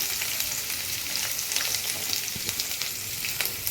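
Onions and green chilli frying in hot oil after cloves, a steady dense sizzle with a few soft scrapes of stirring, close and continuous with no voices.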